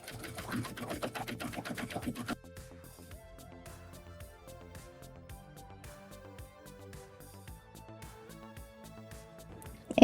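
A sewing machine stitches the last armhole of a cowl neck top, a dense buzzy burst for about two seconds, then quieter intermittent mechanical ticking and whirring, close and with no one talking.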